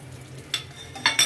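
Cardamom, bay leaf and dried chilli hit hot oil for a tempering, giving a few short sizzling bursts with scraping spoon touches over a quiet background.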